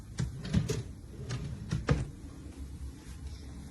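Drawers on a 71-inch kitchen pantry cabinet slide open and shut in a few quick, close thumps and rolling runs, each stroke short and soft against a quiet room.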